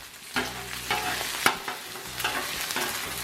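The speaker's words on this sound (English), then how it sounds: "Get my eggs cooked up." Eggs frying on a flat-top grill for lap cheong fried rice, with a steady close sizzle broken by several sharp scrapes and clicks of a spatula turning and stirring them.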